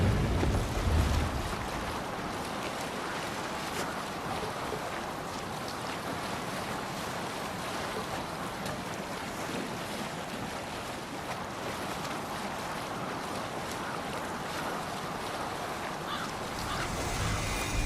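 A Viking sailing ship moves across open sea in the video game Assassin's Creed Valhalla, steady rushing waves and wind noise filling the scene continuously, with a louder buffet at the start.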